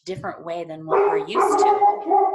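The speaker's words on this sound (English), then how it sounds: "Sorry, that's my dog." A dog barks and yips close by in a home, a few sharp barks then whining, mixed in with someone talking over it.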